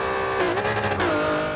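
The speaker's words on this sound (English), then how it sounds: "I just spun the hell out of my clutch" Widebody Nissan 350z with 800-plus horsepower in Forza Horizon 2, its engine revving hard and wavering as the clutch is spun, a loud close mechanical howl.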